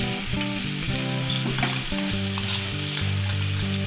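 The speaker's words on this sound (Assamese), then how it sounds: "এতিয়া এই পেষ্টখিনি তেলখিনিত দি দিম" Spice paste for chicken pulau sizzling in hot oil, a dense steady frying hiss with crackling, close and continuous without talk.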